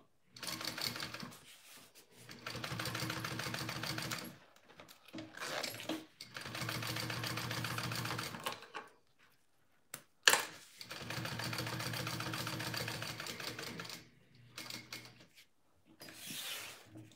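A sewing machine stitching a Camille bag runs in several steady bursts of rapid, even whirring, separated by short pauses and a sharp click, close and fairly quiet.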